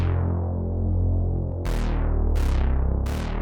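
Deep, detuned Reese synth bass throbs steadily, then a few bright attacks from a pitch envelope snap in and sweep down in pitch, repeating several times in quick succession.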